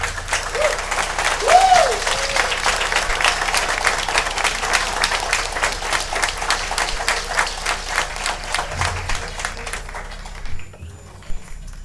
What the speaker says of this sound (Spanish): El aplauso fuerte para ustedes.